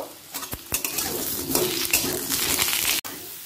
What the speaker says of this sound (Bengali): আলুর পর পটলটাকে ভেজে নেব।